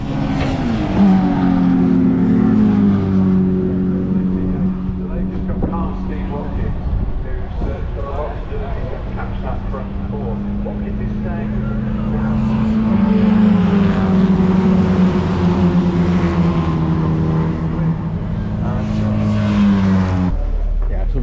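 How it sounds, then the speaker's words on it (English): Classic MGB car at an MG and Triumph show, its engine idling and revving as it pulls up close by, with a steady rumble that swells midway, while people talk over it. "there's an MGB has pulled up"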